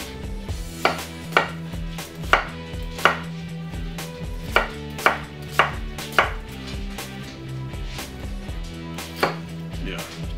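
Knife chopping an onion on a cutting board, a steady series of about a dozen sharp, close taps in a loose rhythm, with a faint low background hum and no talk.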